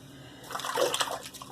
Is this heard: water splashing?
yes